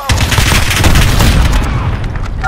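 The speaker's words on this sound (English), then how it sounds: "Allied cruise missile launched." A cruise missile blast in Call of Duty Modern Warfare multiplayer, a loud heavy boom with rumbling debris and scattered gunfire trailing off over a couple of seconds.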